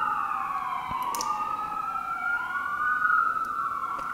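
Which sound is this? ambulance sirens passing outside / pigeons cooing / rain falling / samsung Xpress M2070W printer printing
ambulance sirens passing outside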